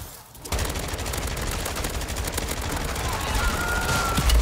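Striker SMG fire in MW3 Zombies, a dense continuous stream of rapid gunshots rattling on for several seconds at steady loudness, alone without speech.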